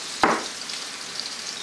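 Big, thick burger patties fry in hot grease for Friday night cheeseburgers, a steady close sizzle with a brief louder spatter near the start and no voices.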